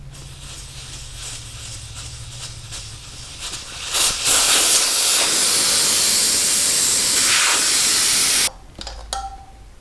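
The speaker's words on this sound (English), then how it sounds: "That nut for the valve core, that needs to come out, and I need to let all the air pressure out of it" Pressurized air rushes out of a 2006 Harley Ultra Classic front motorcycle tire through the open valve stem with the core removed, a steady loud hiss that swells midway, then cuts off abruptly near the end.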